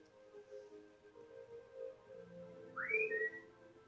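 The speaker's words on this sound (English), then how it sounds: "Just a whistle." A short whistle from the Trails of Cold Steel video game, a faint rising then level tone near the end over quiet background music, with no talking.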